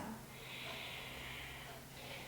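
A person exhales softly during a spine-lengthening exercise, a faint, airy breath drawn out steadily for about two seconds close to the microphone.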